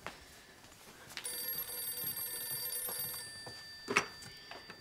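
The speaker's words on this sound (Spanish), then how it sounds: "ya cojo yo el teléfono." A telephone rings in a Spanish household, sounding a bright electronic bell trill that lasts about two seconds and then repeats briefly, moderately quiet over faint room noise.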